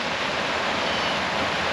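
Steady, dense rush of floodwater flowing over a driveway, broadband roar, constant and fairly loud, like a flowing torrent, no voices.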